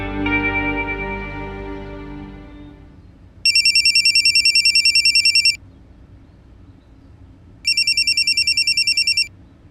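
A fading low tone gives way to two bursts of a bright, rapidly trilling electronic phone ringtone, separated by a short pause.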